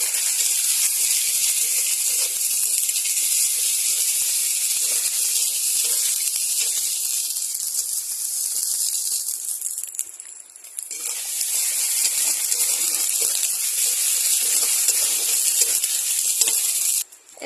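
Garlic paste frying with onions in a pan, a loud continuous sizzle and hiss that briefly dips partway through before returning at full strength, with no talk.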